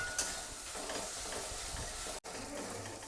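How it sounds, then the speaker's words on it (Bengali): Onion paste frying in a pan for Bengali-style masala chicken, a steady dense sizzle with faint stirring scrapes, close and continuous apart from one brief break. "দিয়ে এটাকে আমি মিনিট 2-3 আবার একটু ভালো করে ভেজে নেব।"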